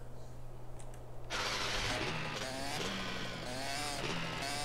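A motorbike engine in the video game MTA DayZ starts with an abrupt, loud buzzing roar. The engine then runs at a steady rough rev under a low hum, close and alone.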